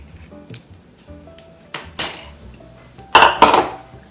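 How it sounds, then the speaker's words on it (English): Metal spoon clinking and scraping against a dish while scooping seeds from tomato halves, a series of small taps followed by two louder bright clattering clinks, close and clear with no talk. "Using a spoon or some other small object, remove the seeds from the tomato."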